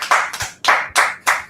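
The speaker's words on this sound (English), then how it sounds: "we'll finish this off and clap it up" A group clapping in unison: about five sharp, close claps in an uneven rhythm, each one loud and crisp with brief gaps between.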